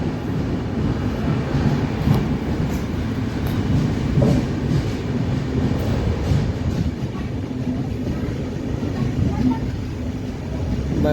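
A passenger train pulls out of Vadnagar station, a steady low rumble of rolling wheels and carriage noise throughout, heard from on board without clear rhythm.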